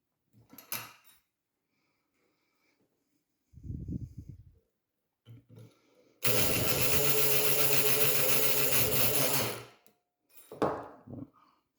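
A Multipick Kronos pick gun works a classic five-pin lock: short mechanical clicks and rattles, then a dense, loud burst of buzzing snaps lasting a few seconds, with sparse handling clicks before and after.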